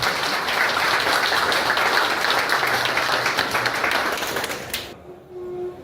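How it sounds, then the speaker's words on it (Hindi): A dense crowd at a physiotherapy event gives a sustained round of loud applause to welcome a guest, holding steady for about five seconds before stopping abruptly into near silence. "आप सभी लोगों से कहूँगा अपनी जगह खड़े होकर जोरदार तालियों के साथ सर का स्वागत"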